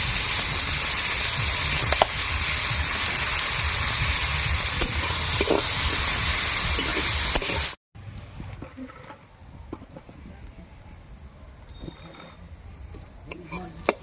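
Onion and garlic fry in oil, a dense, loud sizzle filling the first half, then dropping after a cut to a quieter crackle with occasional stirring clicks; speech is also present.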